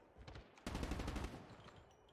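Rapid automatic gunfire from a video game gun, a dense burst of shots lasting about half a second, then fading, moderately loud and alone.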